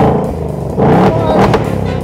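A 2024 Ford Mustang V8 started by remote fires up close by with a deep, loud rumble and a brief rev that settles into a throaty idle, with voices mixed in.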